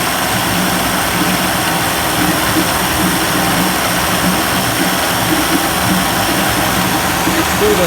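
A 1990s 30 hp Evinrude outboard motor warming up at high speed, a steady, loud, continuous drone with a rough, buzzing texture and no pauses throughout.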